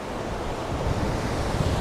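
Sea waves churn up sand along a windy beach at Mappleton, Hornsea, on the East Yorkshire coast, a continuous loud roar of surf mixed with gusty wind buffeting the microphone, no voices.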